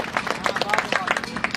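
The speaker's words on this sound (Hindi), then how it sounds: "लोग एक बार जोरदार तालियां बजा के थोड़ा मन बनाए" An audience at a Hindi kavi sammelan poetry recital claps in a brisk, uneven burst of many hands, fairly close, with some murmuring voices mixed in.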